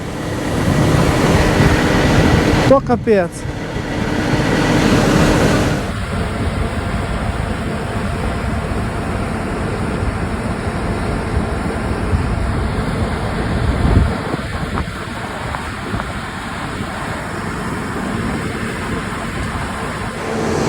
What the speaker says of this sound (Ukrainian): А вітер такий дує, що аж стручки відлітають з ріпаку